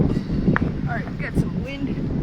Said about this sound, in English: we got some wind